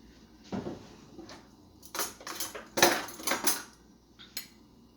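A spoon scrapes and clinks against a metal pot while stirring thick plantain porridge with a little cornmeal, several bursts of clatter at close range, no talking.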